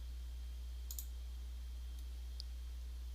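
A computer mouse clicks a few times, quick sharp double clicks and a single later click, isolated over a quiet low hum.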